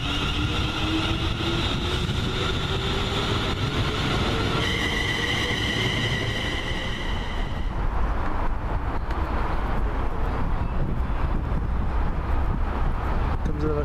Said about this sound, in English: There's a 380-005 heading up with the Gourock stopper train.